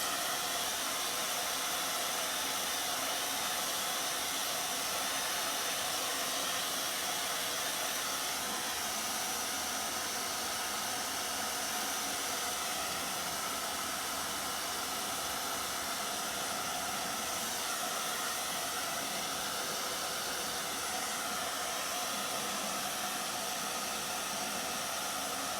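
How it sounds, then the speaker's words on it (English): A blow dryer runs nonstop on wet paint on a painted snail yard decoration, a loud, close, unbroken rushing hiss lasting the whole stretch with no voices. "I'm going to just hit this with a blow dryer and try to get it as dry as I can"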